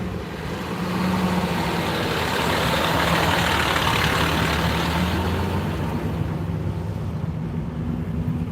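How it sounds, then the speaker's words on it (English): A water truck's engine rumbles steadily as it arrives, a loud, continuous low drone with a faint hum on top that holds throughout. "Here comes the water truck with no water to drink."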